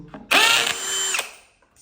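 A power drill backs screws out of the front of a concrete kitchen counter form, one loud whirring run of about a second with a brief tick just before it, close up and with no talk.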